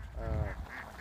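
A duck at a pasture-raised farm of about 5000 ducks gives one short, nasal quack, close and clear against a low background murmur.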